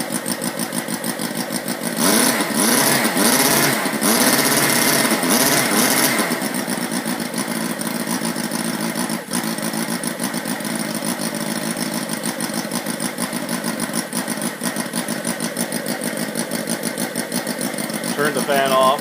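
A 32cc inline four-cylinder model engine built from a Sterling kit runs steadily after a cold start, a continuous loud buzzing drone with a brief rougher surge near the start and no talk over it.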